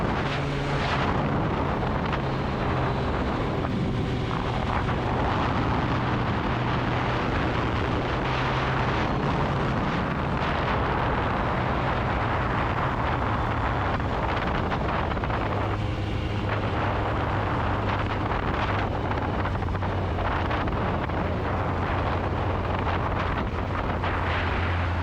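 Kawasaki Ninja ZX14R motorcycle on a test ride after a sprocket slack fix, a steady engine roar buffeted by heavy wind rush throughout, loud and continuous with the pitch shifting slightly as the ride goes on.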